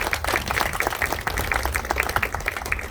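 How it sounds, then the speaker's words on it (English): Audience applause at a state government celebration of a historic child care investment, a brisk, dense patter of many hands clapping at moderate volume for the full stretch. "So let's give them a round of applause."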